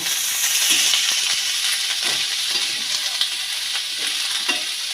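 Chopped onion and green chilli frying and being stirred, a loud continuous bright sizzle close up with faint spoon scrapes scattered through it.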